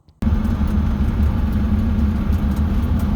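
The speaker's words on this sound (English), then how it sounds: "let's take and hop in the truck and go for a quick drive" A 1973-87 Chevy C10 pickup truck drives along with a steady, loud low engine rumble and road noise heard from inside the cab, starting abruptly and holding constant with no talk.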